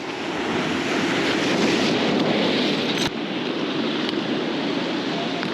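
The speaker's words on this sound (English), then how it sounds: "these waves are no joke" Heavy ocean waves crash against a rocky jetty at Oceanside, California, producing a continuous loud, close roar of surf with one sharp impact partway through.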